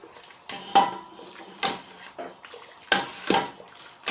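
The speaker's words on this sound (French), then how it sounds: "moi je mets tout d'un coup et après je remue." Food is stirred in a pan with a utensil, producing a series of distinct metallic scrapes and clinks at irregular intervals, close and moderately loud against a quiet background.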